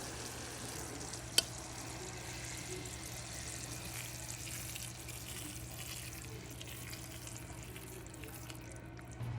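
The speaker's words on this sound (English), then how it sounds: "you're going to take your syrup and you're going to pour it over your sweet potatoes" Syrup poured over sweet potatoes for old-fashioned candied yams gives a soft, continuous liquid trickle and faint sizzle, steady and close, with one brief click near the start and no talk.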